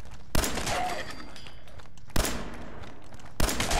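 Three sharp 10mm pistol shots ring out in Fallout 4, spaced irregularly about two seconds apart, each a loud crack with a short decaying tail over a steady background hum.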